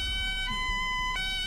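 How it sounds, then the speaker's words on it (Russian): An ambulance siren in the driving game BeamNG.drive wails with a steady electronic tone that shifts pitch twice, fairly quiet over a low engine rumble. "Ух ты, какая у него сирена."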